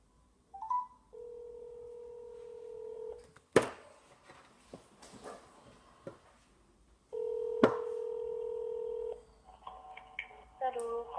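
Telephone call to a clinic: steady ringback tones sound in two long stretches, broken by sharp clicks and knocks of the handset and faint background activity, with short dialing beeps near the end.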